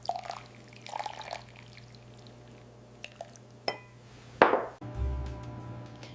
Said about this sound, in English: Add chia seeds and your favorite milk into a jar.